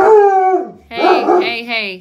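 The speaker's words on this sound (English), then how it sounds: "Excuse my dog." A pet dog barks and howls close by in a home, with harmonic yelping calls overlapping a person who speaks briefly.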